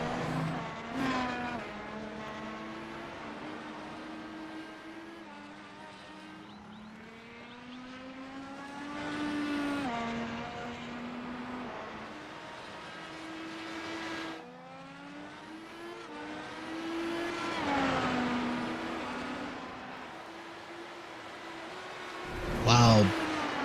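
IndyCar race cars in a video game lapping the Barber circuit, engines rising and falling in pitch as they brake and accelerate through a turn, several cars passing close one after another under a commentator's voice.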